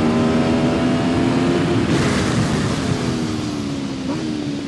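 A 2023 Aprilia RSV4 superbike ridden on the Tsukuba circuit: a loud, sustained engine note rises steadily, shifts around the two-second mark, then climbs again under a constant rush of wind.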